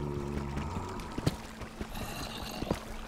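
Flowing water from a water source in Minecraft gives a constant gurgling wash, with a few short knocks and clicks over it and a faint low hum underneath.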